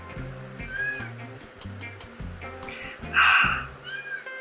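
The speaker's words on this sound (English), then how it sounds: "That's not my cat. But she wants in here." A cat meows insistently to be let into a room, with several short, rising calls and one louder meow near the end, over a steady low background hum and no talking.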